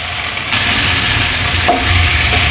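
Whole boiled eggs, pricked with small holes, fry in oil in a pan with a steady broadband sizzle that steps up louder partway through and keeps crackling to the end.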